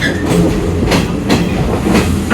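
A third-class carriage of an express train in Sri Lanka rolls along the rails with a steady loud rumble and rhythmic clacks from the wheels, heard from inside.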